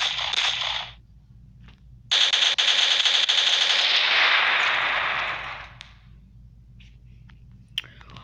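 Gunfire in a standoff shooting video game: a burst of rapid automatic fire, then a longer sustained rattling volley that fades out, with a steady low hum underneath.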